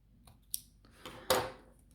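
Scissors snip through a long tail of crochet yarn, giving two or three short, quiet cuts close by with no talking.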